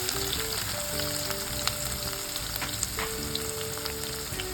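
Onion and green chilies with curry leaves sizzle and fry steadily in a pan for a Kathiyawadi baingan bharta, a dense continuous crackle with a few light stirring clicks, close and alone.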